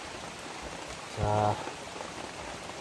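Rain falls steadily as a soft, even hiss throughout, during a search and rescue outing, with a brief spoken syllable cutting in near the middle.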